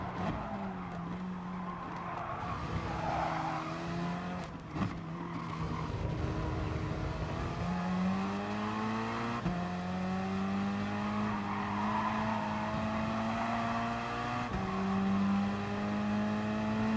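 Gr.4 race cars at Lago Maggiore West in Gran Turismo Sport, a sustained engine drone climbing through gear changes, with tire squeal and skidding early on, loud and continuous with no talk.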